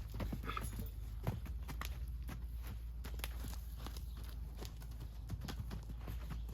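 A horse's hooves clip-clop in a steady walking rhythm on hard ground as it circles on a rope, close by, with no talking.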